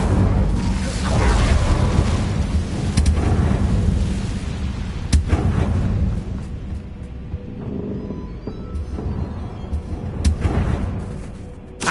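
Incendio fire spell cast in Hogwarts Legacy, a loud roaring, booming burst of flame that rumbles heavily for several seconds and then trails off into crackling effects and scattered sharp hits.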